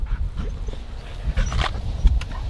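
An excited dog makes close, scattered bursts of yips and whines over a low rumbling background.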